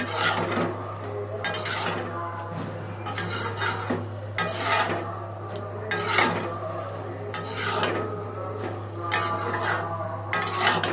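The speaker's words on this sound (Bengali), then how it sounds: "ডাঁটাটা আমি সুন্দর করে কেটে, আলু কেটে, মিষ্টি আলু কেটে সুন্দর করে ধুয়ে এবার আমি ভালো মতন কষাই নেব" Cut vegetable stems, potatoes and sweet potatoes are stir-fried in a pan, with repeated scraping strokes of a spatula against metal in a steady rhythm over a low continuous hum, close and fairly loud.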